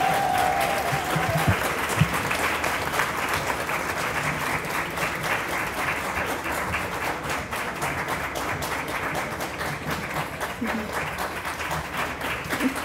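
An audience at the 2012 Tufts Alumni Awards gives sustained, loud applause for an award recipient coming up, dense clapping continuing evenly throughout with a few brief voices in the crowd.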